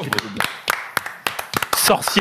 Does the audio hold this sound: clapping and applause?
yes